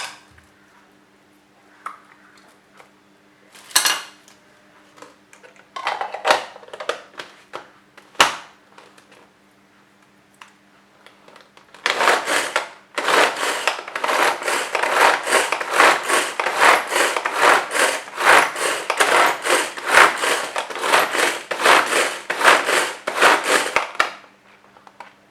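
A handheld vegetable chopper chops cabbage. A few scattered clicks and clacks give way to about twelve seconds of rapid, steady, rhythmic chopping pulses close up.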